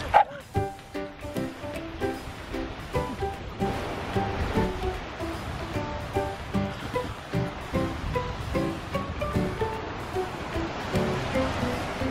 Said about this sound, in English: the dogs are running and rolling and things